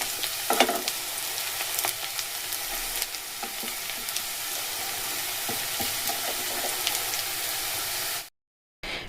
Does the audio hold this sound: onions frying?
yes